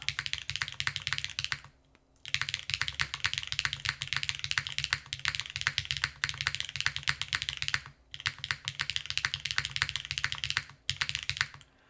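Fast, continuous typing on a Wraith 60 mechanical keyboard, dense clacky keystrokes with slight resonance under the alpha keys, close and loud, broken by a few short pauses.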